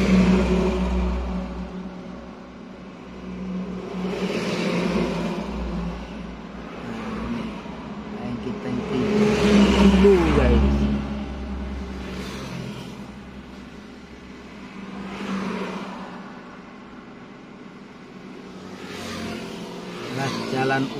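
Heavy tanker trucks carrying palm oil pass along a plantation haul road toward a port, their engines rising and fading in repeated loud swells, with someone talking over the traffic throughout.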